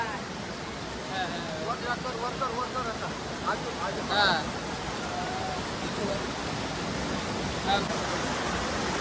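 Rushing water roars steadily like a broad waterfall at Dugarwadi, with people talking and calling out over the constant noise.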